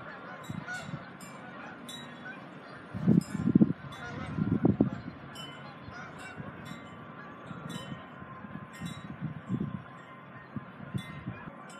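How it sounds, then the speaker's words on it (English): A flock of geese honks outdoors on a dreary, windy day, with scattered calls through the clip and a louder cluster of overlapping honks in the middle, fairly close and with no one talking. "Damn, look at all them geese."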